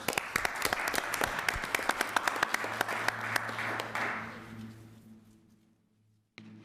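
Applause at a city agenda meeting in Little Rock honoring fire department members: a steady patter of claps that thins and fades out over several seconds, followed by a low hum and a brief knock near the end.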